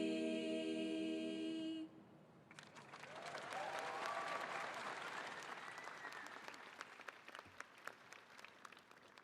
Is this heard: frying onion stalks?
no